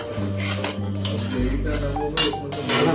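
Chicken masala with coriander leaves being stirred and sautéed in a pan over low flame after ground paste water is added, giving steady clinks and scrapes of a utensil against the pan under a low kitchen hum.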